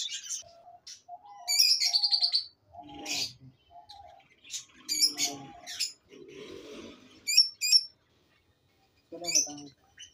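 Lutino lovebirds, a breeding pair, chirp and tweet in a parrot aviary, with repeated sharp, fairly close calls in short bursts and a brief gap of quiet near the end.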